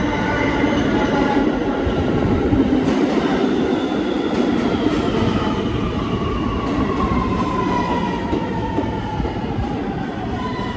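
An R211 subway train rolls into a station, a loud, steady rumble of wheels on rail with faint clicks and a rising squeal, close by and without talk.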